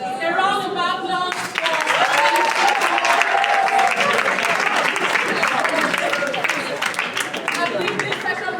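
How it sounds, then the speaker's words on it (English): Loud audience applause fills a hall at a school debate competition, a dense sustained clapping that starts abruptly and continues steadily to the end. "A round of applause"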